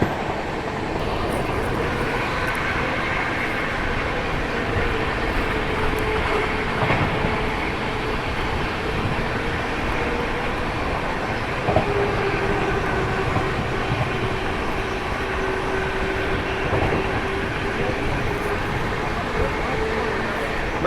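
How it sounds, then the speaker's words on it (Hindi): The Kathgodam Shatabdi Express runs at speed above 110 on its journey past Amroha, a constant loud rumble and rattle of the carriage filling the whole stretch, with someone talking over it. "उसके बाद ट्रेन अच्छी खासी रफ्तार में आगे बढ़ती है"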